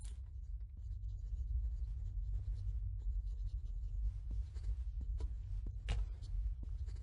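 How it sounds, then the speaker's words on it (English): Rapid scratchy rubbing of a scrubbing stain removal on a display case in The Book of Unwritten Tales 2, continuous strokes over a low steady hum. "I was just removing an ugly stain from our display case"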